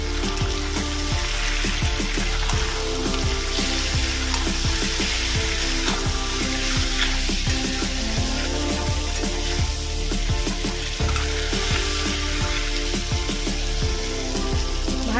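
Prawns frying with salt, turmeric and chili powder for chingri posto, a steady sizzle under repeated rhythmic scraping and stirring of a utensil against the pan, continuous and fairly close throughout.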